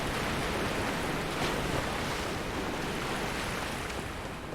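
Steady broadband rushing water from a waterfall in the video game Dark Souls, loud and continuous with no voices over it.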